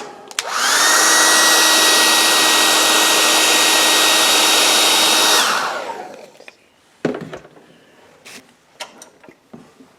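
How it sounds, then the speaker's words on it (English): A hair dryer drying paint on a painting, a loud steady whir for about five seconds that then spins down, followed by scattered small clicks and handling noises. "Watch out, Judy, I need to dry it out."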